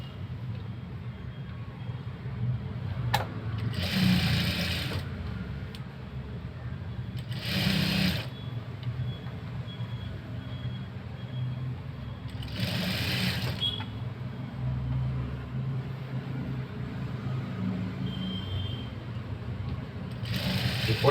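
A sewing machine runs in short bursts while stitching the folded edge of a blouse, with several brief fast whirring runs separated by pauses, close and fairly loud over a steady low background hum.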